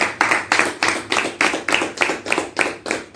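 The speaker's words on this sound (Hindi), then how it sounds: "तालियों के साथ में मेरी बात का आप समर्थन कीजिए।" A small audience claps in a slow, steady rhythm, about ten distinct claps in three seconds, fairly close and loud, at a spiritual or religious gathering in India.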